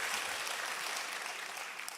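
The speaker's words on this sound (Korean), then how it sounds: "하나님께 다시 한번 영광의 박수 올려드립니다" Sustained applause from a church congregation after a choir's hymn, dense steady clapping throughout, loud and even with no voices standing out.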